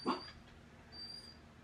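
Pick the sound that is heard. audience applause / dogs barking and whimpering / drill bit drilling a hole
dogs barking and whimpering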